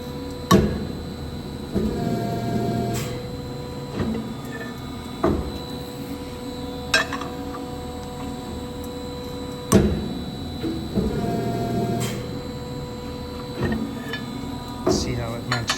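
A metal bending machine shaping angle stock for a 1953 Ford F100 build, with repeated sharp metallic clunks and hydraulic whines in a workshop, several cycles spaced a few seconds apart.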